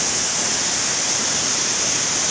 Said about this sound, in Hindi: यहाँ पर जो पानी गिर रहा है इसे दुर्गा धारा का नाम दिया गया है